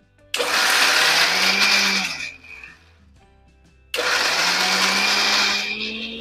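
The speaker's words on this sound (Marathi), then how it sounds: "आता आपण हे झाकण लावूया आणि मिक्सर करून घेऊया" A mixer grinder blending spices whirs loudly for about two seconds, stops briefly, then starts again with the same high, steady roar.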